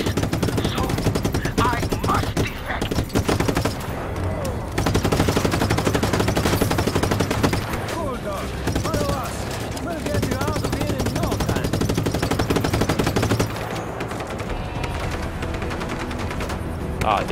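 Rapid automatic gunfire in Just Cause 3, dense loud bursts of machine-gun shots with brief pauses, close and intense, with speech-like sounds in the mix.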